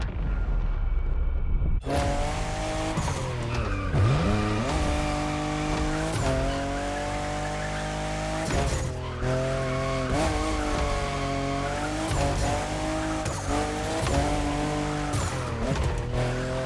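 A Toyota Supra races hard in the video game The Crew Motorfest, its engine roaring loud and up close, rising and falling through gear changes, with tyres squealing as it slides through corners.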